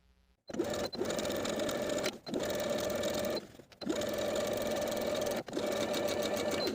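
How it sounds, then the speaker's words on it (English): A sewing machine understitches the seam allowance of a vintage skirt to its button placket, running in three or four long, steady, loud bursts with short pauses between them. "Then we're going to understitch, sewing the seam allowance to the button placket from the top to the bottom"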